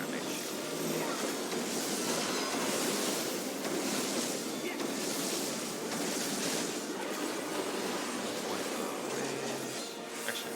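Waves rush through the Mothercrystal trial in FFXIV, a broad, surging wash of surf and wind that swells and recedes repeatedly, moderately loud with game sounds layered in.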